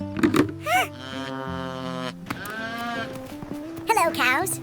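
Cartoon cows on a farm moo in several drawn-out, wavering calls, close and fairly loud, with short knocks and light movement between them.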